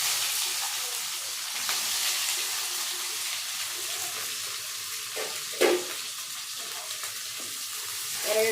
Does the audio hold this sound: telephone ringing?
no